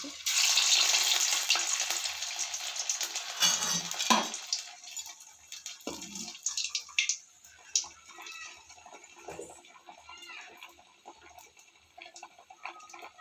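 A small semolina kakara test piece dropped into hot oil, a loud, bright sizzle that fades over several seconds into quieter bubbling, with scattered clinks of a utensil against the pan and no speech.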